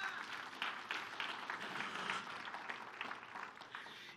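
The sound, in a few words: congregation applause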